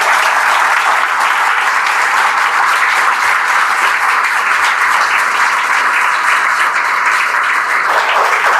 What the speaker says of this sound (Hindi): एक बार जोरदार तालियों स्वागत कर दें